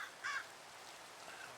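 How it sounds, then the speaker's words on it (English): Crows in the video game Minecraft give a single short caw near the start, then only a soft ambient hush of rain remains; the call is moderately distant and faint. "It's fun to have these crows keeping us company."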